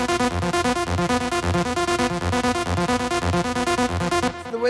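Synth lead for a raw industrial techno track, with a buzzy, distorted repeating pattern of short notes driving in a tight, loud loop before cutting off at the end.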